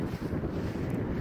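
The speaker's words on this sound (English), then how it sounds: "It's kind of windy out here." Low, rumbling wind gusts batter the microphone in a steady blustery roar, with no one speaking.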